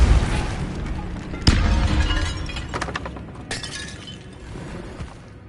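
Depulso force spell cast in a Harry Potter video game inside an eerie tomb, a sharp shattering blast with a crashing burst that trails into rumbling debris, followed by a second smaller crack near the end.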